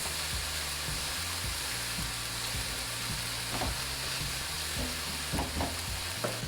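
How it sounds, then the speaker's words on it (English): Garlic sizzles steadily in a hot pan while a utensil stirs it, the spatula strokes scraping in uneven bursts over a constant frying hiss, close and moderately loud. "A little bit of garlic in there, mix it up a bit"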